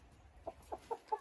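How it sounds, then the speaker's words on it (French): Chickens give four short, soft clucks in a quick, even series, faint and a little distant against quiet background noise. "La poule!"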